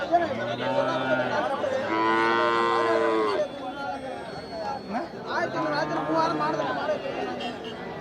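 Cattle low in long, loud moos at a livestock market in Thiruvonam, two drawn-out calls over a background of chattering voices and crowd hubbub.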